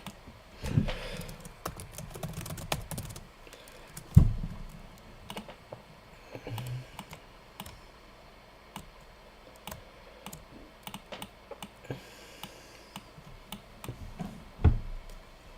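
Someone types on a computer keyboard in quiet, irregular bursts of light clicks and taps, with a few louder key strikes and pauses between runs.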